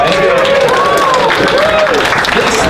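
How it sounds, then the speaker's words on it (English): A round of applause from an audience, steady and loud throughout with a voice talking over it, during a segment on strange and obscure video games. "Now, yeah, a round of applause."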